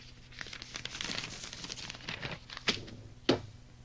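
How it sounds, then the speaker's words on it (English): A page being turned gives a dry papery crinkle and rustle close by, building to a few sharper crisp flicks toward the end, with no one talking. "It was a page turning."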